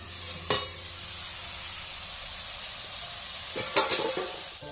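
Vegetable curry sizzles steadily in a wok over a clay stove, seasoned with salt and turmeric, with two clear stirring scrapes against the pan near the start and end.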